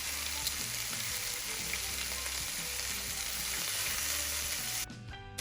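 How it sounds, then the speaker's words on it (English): Chicken malai tikka pieces sizzle and fry in a hot pan, a dense, steady crackling hiss that stays even and fairly loud before cutting off near the end. "Sizzle on a pan, sizzle on a pan, sizzle, sizzle, sizzle, sizzle, chicken over the pan."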